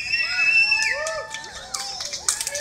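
Rally crowd at the Alberta Legislature yelling and screaming for PDD services, a dense mix of overlapping shouts, cheers and high voices swelling in bursts throughout.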